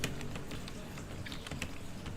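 Someone types on a computer keyboard at a desk, a steady run of quick, close key clicks that keeps going without a pause, alone with no talking.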